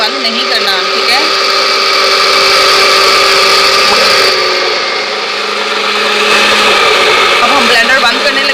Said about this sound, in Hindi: और ब्लेंडर भी आपने बंद नहीं करना, ठीक है।